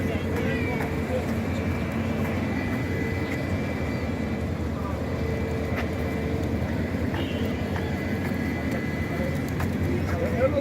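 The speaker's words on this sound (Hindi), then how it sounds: "कबूतर।" Pigeons coo at the Masjid an-Nabawi in Medina after dawn prayers, soft repeated calls within a steady outdoor hum, with faint voices in the background.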